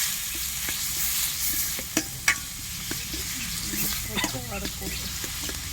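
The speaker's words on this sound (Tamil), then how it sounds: "வெங்காயம், புதினா, வெங்காயமா அந்த பீட்ரூட் அதில் தானே, எல்லாத்தையும் நல்லா வதக்கிக்கலாம்" Onion, mint and beetroot sauté in a pan for an egg gravy, giving a steady sizzle with scattered sharp clicks of a spoon stirring against the metal.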